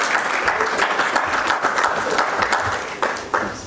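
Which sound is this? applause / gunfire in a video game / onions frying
applause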